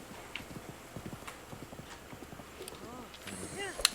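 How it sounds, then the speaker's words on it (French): Horse hooves trotting in Zelda: Breath of the Wild, a steady rapid clip-clop rhythm with occasional whinny-like tones, under a speaking voice and game ambience. "Ah, et les chevaux suivent tout seuls la route."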